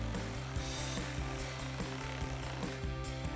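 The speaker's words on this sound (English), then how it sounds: "we'll take our T30 torque socket and tighten that down" Power tool driving a Torx bolt home with a T30 torque socket while mounting a 240-watt LED light bar on a 2021-2024 Ford Bronco, a steady close mechanical whir broken by repeated ratcheting clicks and hits.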